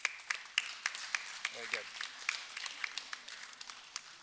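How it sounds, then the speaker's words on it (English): Children clap for their parents at an elementary school honor society induction ceremony, sparse and rhythmic claps sounding fairly faint, while a voice briefly speaks over them. "So kids, why don't you give your parents a round of applause?"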